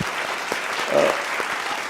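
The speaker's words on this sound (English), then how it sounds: "they need a round of applause from all of us" Steady applause from a conference audience, dense and continuous clapping throughout with no pause.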